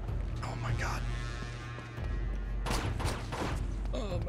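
Gunfire erupting in the Uncharted 2: Among Thieves video game, bursts of shots and mechanical clatter over a low rumble, with a player's voice reacting in between.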